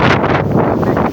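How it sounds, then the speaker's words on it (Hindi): Strong storm wind gusts through swaying trees, buffeting the microphone with loud, roaring rumble that surges and eases in rapid waves. "तो आप अंदाज़ा लगा सकते हैं कितनी तेज़ हवा है"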